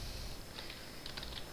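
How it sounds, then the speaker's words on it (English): Soft, quick taps of typing on a computer keyboard sound in a few short bursts, faint against a steady background hiss. "I'm typing something here"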